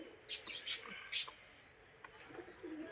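A purebred Sajahapuri pigeon gives a few soft, brief coos and chirps, close but faint, with quiet talk in the background.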